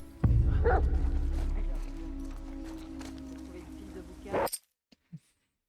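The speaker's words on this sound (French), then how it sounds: "Le chien va me sentir, yo." A dog in The Last of Us Part II survival mode barks over loud, low in-game rumble and music for several seconds, then everything cuts to near silence with a few faint clicks.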